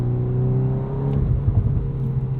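A 2022 Volkswagen Golf R with a 6-speed manual revs steadily, its engine hum and exhaust holding a sustained, fairly loud drone close by, with no distinct pops standing out.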